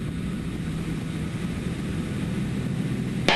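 A steady drone from an aerobatic airplane's propeller engine throttled back to approach power, heard from inside the cockpit as a continuous, even hum throughout.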